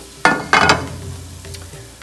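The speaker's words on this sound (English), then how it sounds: "Sizzling." Sautéed tofu for saag tofu hits a hot pan on a gas stove with two loud bursts of sizzling close by, then settles into a softer, steady fry with no talking.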